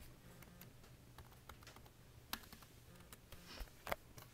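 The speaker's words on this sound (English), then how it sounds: "please type the secret letters you see here" Soft, irregular key clicks as letters are typed on a computer keyboard, a quiet run of light taps with a couple of sharper presses near the end, no talking.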